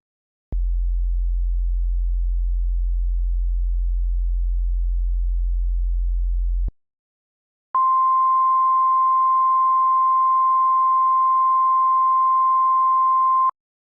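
A pure high-pitched sine test tone sounds steadily for about six seconds, alone and loud, following a separate low steady hum of similar length, with a short silence between the two.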